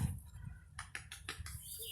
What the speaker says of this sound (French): Voilà, les oiseaux. Déjà les étourneaux, pourtant les figues sont pas mûres.